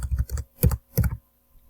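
Computer keyboard keys pressed in quick bursts, a short cluster of clicks followed by two distinct key-press pairs, close and clear with no talking.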